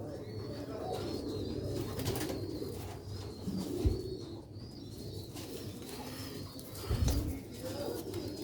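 Pigeons cooing in a rooftop loft in Sialkot, soft repeated low coos close by, with a couple of brief louder bursts and faint background rustle.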